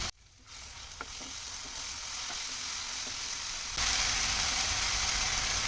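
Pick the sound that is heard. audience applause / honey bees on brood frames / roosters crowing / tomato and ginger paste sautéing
tomato and ginger paste sautéing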